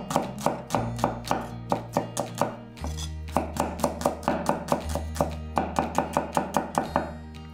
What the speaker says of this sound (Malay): Bawang merah kecil, iris nipis.